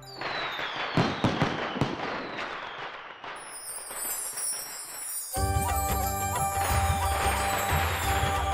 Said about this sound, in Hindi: हम पटाखा जलाता हूँ।